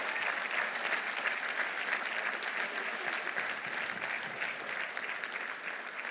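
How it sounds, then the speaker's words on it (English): Steady, dense applause from a commencement audience for a poetry reading, sustained and even throughout with no breaks. "Give poetry a round of applause."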